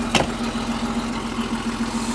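A Porsche 911 Turbo 3.3 coupé from the G-series rolls slowly forward, its engine giving a low, even hum with a steady pitched drone and one brief thump near the start.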